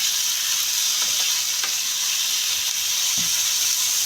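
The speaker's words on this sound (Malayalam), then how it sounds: "അത് നന്നായി വഴറ്റിയെടുക്കാം" Onion, capsicum and tomato sauté in a hot pan for cheesy pepper pasta, a loud, steady close-up sizzle throughout with a few faint spatula scrapes, no voices.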